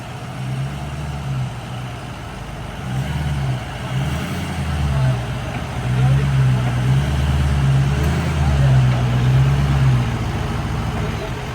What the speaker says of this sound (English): I guess we're gonna yield to the big truck.